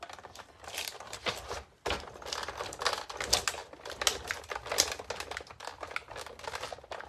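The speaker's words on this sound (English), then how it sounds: "Let's see if we can get this through our big shot here." A Big Shot die-cutting machine cranks a Fern 3D embossing folder with paper through its rollers, giving a run of close, irregular clicking and crinkling ratchet sounds with one brief pause.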